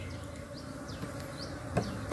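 Javanese bees buzzing around a gazebo in a durian orchard, a faint continuous drone with several insects passing close by, alone without talk.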